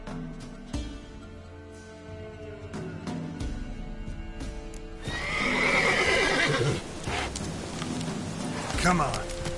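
In the video game Witcher 3, the horse neighs and its hooves clip-clop over a steady ambient bed, with a louder whinny rising midway and a voice speaking briefly.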